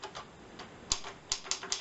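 Keys clacking on a vintage 1935 Hermes Baby typewriter, a handful of crisp strikes at an uneven pace, fairly close, with soft mechanical rustle between them.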